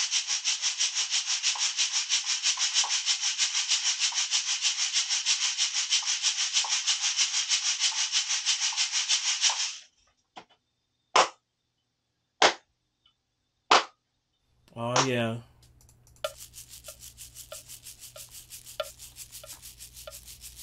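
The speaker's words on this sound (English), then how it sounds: "We gotta hit it with a little shaker of soul." Shaker percussion recorded with a TZ Audio Stellar X2 vintage-style microphone: a steady, bright rhythmic rattle for about ten seconds, then a few sharp isolated shakes, a brief voice, and the even shaking pattern resumes, close and clear.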